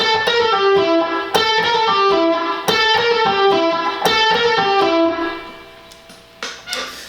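An electric guitar with a slightly driven tone plays a quick upbeat blues lick in E of rapid notes, including fast pull-offs, ringing out and trailing off near the end.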